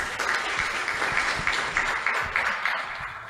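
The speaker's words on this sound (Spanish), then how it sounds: "Un fuerte aplauso, por favor." Audience applause at a Spanish law seminar as a lawyer and professor is introduced, a moderate, steady patter of clapping from a seated room with no voices over it.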